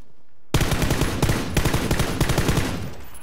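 Rapid automatic gunfire in PUBG, a loud close burst of repeated shots that kicks in abruptly after a moment of silence and keeps hammering in quick rhythmic volleys.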